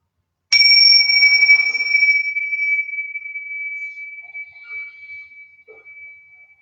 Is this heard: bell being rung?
yes